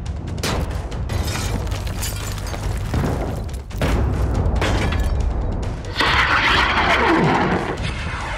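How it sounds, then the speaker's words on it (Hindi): Artillery shelling in Gaza during the Israel–Hamas war: a series of heavy booming blasts and thuds, roughly four major impacts with rolling rumble between them and a roaring, debris-like wash after the last, loud with no talking. "तोपों से गोलाबारी,"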